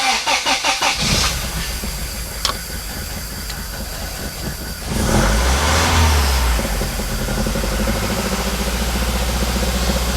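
A Toyota 3SGE engine fitted with individual throttle bodies in an Altezza cranks with a rapid rhythmic chug, then catches and settles into a loud, steady, raspy idle close by.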